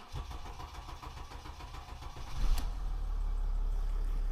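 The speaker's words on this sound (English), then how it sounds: "Try and crank it again." Car engine cranking over with a rhythmic starter whirr, then catching around the midpoint and settling into a steady, loud idle, recorded close up during a mobile mechanic's service call.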